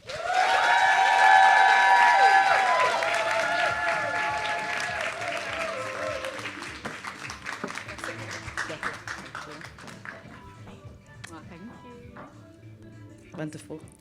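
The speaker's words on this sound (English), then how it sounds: "Please, can we have a round of applause to Katie Bonfall." A crowd at a panel event on Black motherhood, baby loss and fertility applauds a panelist: loud, dense clapping with cheers that slowly fades over several seconds, leaving scattered claps and faint murmuring.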